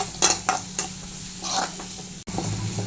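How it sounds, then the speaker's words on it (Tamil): Onions sizzling and frying golden in a pan for fish curry, with a spoon scraping and stirring in several short strokes over the steady hiss, close up. "ரெண்டு மீடியம் சைஸ் வெங்காயம் கட் பண்ணியிருக்கேன். அதையும் போட்டு நல்லா கோல்டன் ஃப்ரை வரணும்"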